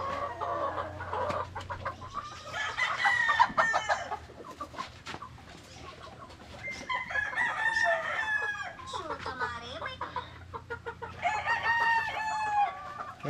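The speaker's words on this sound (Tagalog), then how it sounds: "ito mga binatilyo na po ito mga stag natin" Young four-month-old gamecock stags crowing repeatedly in short, rough bursts, with clucking between, close and moderately loud, over a low steady hum and occasional faint talk.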